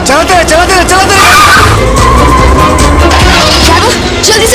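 Movie car chase with cars skidding, a loud, continuous rush of engines and squealing tires running throughout, with voices shouting over the action.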